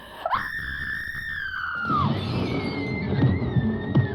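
A woman lets out a single long, high-pitched scream that holds and then breaks off, followed by rumbling commotion and clattering.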